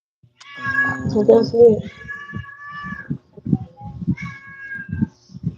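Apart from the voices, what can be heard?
cat meowing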